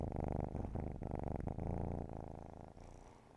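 A cat purrs steadily and close up, a continuous rumbling purr with a brief pause or two, alone with no talking.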